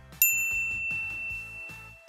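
A bright notification bell dings once with a sharp, ringing attack that sustains and slowly fades, layered over a rhythmic musical backing loop.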